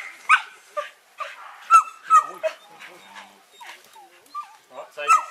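A young sheepdog pup lets out a string of sharp yips, barks and whimpers, close and irregular across the whole stretch, with bursts of high-pitched crying between the louder barks.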